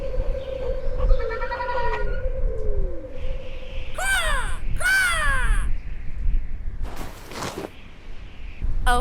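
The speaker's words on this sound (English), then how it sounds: "Wait, big exotic bird?" Big exotic bird giving loud, harsh crow-like caws, two strong swooping calls in the middle followed by a sharp squawk, over a steady background hum with no talking.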